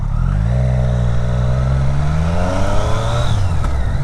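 Motorbike engine on a countryside ride out toward Woodhall Spa, a steady close droning rumble with rising and falling revs throughout, loud and unbroken with no talking.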